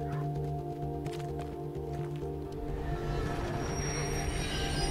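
A train rumbles along the tracks in the video game Life Is Strange, with a steady heavy drone and rising rail noise that grows louder and closer over a few seconds.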